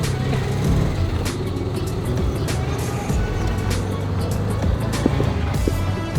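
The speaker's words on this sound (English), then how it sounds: "the tuk-tuk's having a hard time getting us up the hill" Tuk-tuk labouring up a hill on a road near Guatemala's Lake Atitlan, its small engine droning and straining continuously close by, with road noise and a few clunks.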